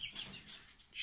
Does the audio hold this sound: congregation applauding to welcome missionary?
no